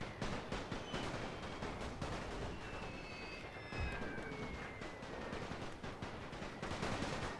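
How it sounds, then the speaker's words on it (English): Machine guns rattle in rapid bursts in the World War I strategy game The Great War, dense close gunfire that keeps on, with whistling shells streaking overhead. "I'm up with the machine guns."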